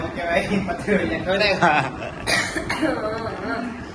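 Speech broken by a few harsh bursts that fit coughing, with a throaty catch and faint chuckling mixed in, close to the mic.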